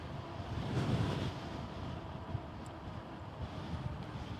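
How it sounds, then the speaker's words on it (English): Steady wind rushes and buffets outdoors during an e-bike ride, a continuous low roar with gusts rising and falling, with no voices. "it's rather windy today"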